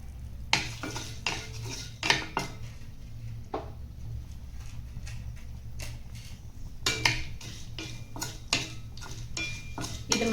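Whole spices for mutton curry (cinnamon, cloves, cardamom, bay leaf, peppercorns) are stirred in a pan over medium flame, with repeated sharp metal clinks and scrapes of a spoon against the pan over a faint sizzle.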